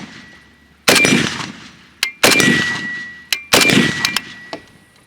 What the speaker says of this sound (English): So let's go ahead and start shooting.